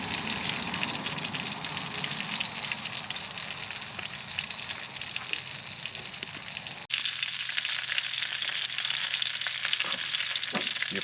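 Donohue Quality Meats sausages frying in a pan, a steady crackling sizzle with popping fat, close and continuous, the sound briefly cutting and resuming slightly brighter partway through.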